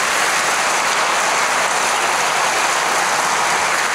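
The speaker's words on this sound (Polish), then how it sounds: "O czym świadczą również te brawa." Dense, loud audience applause at a meeting with Jakobe Mansztajn of Make Life Harder at the ASP during Pol'and'Rock 2021, a steady unbroken roar of clapping with no talk.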